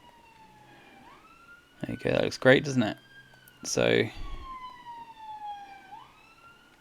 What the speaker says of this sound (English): sorry about the sirens in the background if you're picking them up.